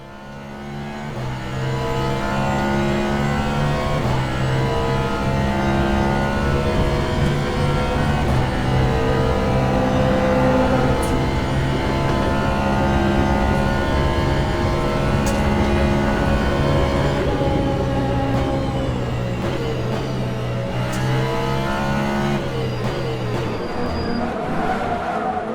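Race car engine in the Le Mans Ultimate sim racing game, a loud, continuous high-revving drone rising and falling through gear shifts, with occasional tire squeal and no talk.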